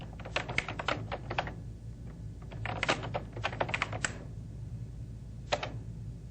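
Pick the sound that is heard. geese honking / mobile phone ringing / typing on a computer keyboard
typing on a computer keyboard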